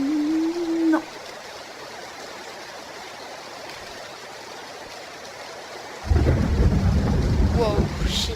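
A thunderstorm with rain in the video game PUBG: after a quieter stretch of soft rainfall, a loud rumbling thunder burst rolls in and lingers, with no speech over it.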